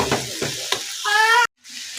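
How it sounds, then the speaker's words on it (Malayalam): A spoon turns greens with turmeric and salt in a hot pan: three or four distinct scraping strokes over a soft sizzle, then a brief ringing tone and a sudden cut to near silence before the sizzle resumes. "ഇളക്കി എല്ലാം യോജിപ്പിച്ചു."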